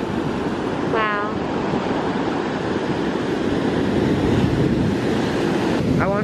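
Ocean waves wash in steadily on a beach, a continuous loud surf roar with wind buffeting the microphone and brief higher chirps near the start and end.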